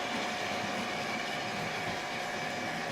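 A Triang model train set runs with its coaches, giving a steady, even mechanical rumble and whir that stays constant and close throughout, with no talking.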